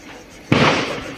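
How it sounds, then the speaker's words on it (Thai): A single sharp firecracker bang at a Thai festival near the end of Buddhist Lent, close and loud, followed by a dense crackling burst that fades slowly. "ยุดประทัดอีกแล้วพี่น้อง"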